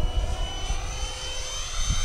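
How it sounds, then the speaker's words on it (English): An EDF prototype model jet, the FF-Viper-70, flies overhead with a steady high-pitched ducted-fan whine over a low rumble. The sound is loud and continuous and stays at a fairly even distance throughout. "with the size EDF and the power that one puts out, it looks like it's flying pretty good"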